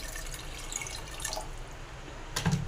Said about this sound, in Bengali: সেই জন্য আমি একটু বেশি করেই জল দিয়ে দেবো।